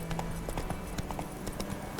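Hooves clip-clop in a quick, even rhythm as a horse gallops in the video game Witcher 3, moderately close and steady, with no talk over it.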